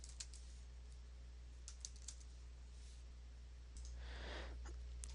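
Keys on a computer keyboard click softly in quick scattered taps over a steady low hum, with a brief rustle near the end, no voices.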